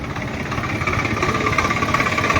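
A tractor hitched to a loaded paddy trolley sits idling nearby, its engine giving a steady, close, rhythmic low chugging throb that holds constant for the whole short stretch with no talking.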